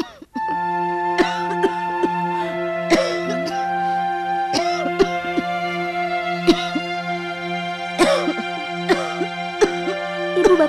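A mother in an animated children's story coughs repeatedly in short bursts over a sustained musical background tone.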